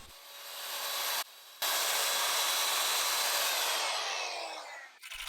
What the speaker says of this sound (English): And then I did some more sanding.